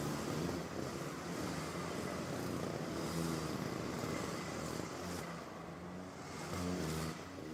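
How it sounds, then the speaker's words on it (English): Rotax Micromax racing kart engines idle and rev as the field gets ready for a heat's formation lap, producing a loud, continuous layered engine drone with small swells in pitch and no talk over it. "The engine sounds are on and they are about to head out for their formation lap"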